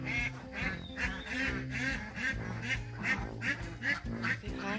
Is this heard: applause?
no